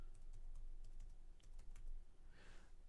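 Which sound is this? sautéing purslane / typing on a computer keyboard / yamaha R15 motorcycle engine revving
typing on a computer keyboard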